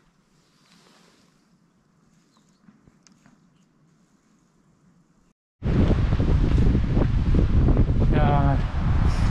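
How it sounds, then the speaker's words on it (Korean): After a quiet stretch with faint background noise, strong mountain wind near Ulsanbawi on Seoraksan suddenly roars and buffets the microphone. A brief voice is heard under the gust. "이 바람 소리 들리시나요?"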